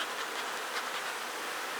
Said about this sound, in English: I'm just going to smoke the bees off of it a little bit